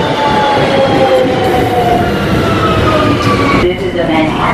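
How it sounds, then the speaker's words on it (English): A New York City subway train rumbles loudly close by, with rolling wheel noise and high, drawn-out metallic squeals from the rails, then a brief clunk near the end. "now we're going to hop on the train"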